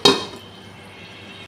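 A metal lid clanks down onto a pan of frying katla fish with onion stalks and tomato, one sharp ringing hit that fades into a quiet sizzle.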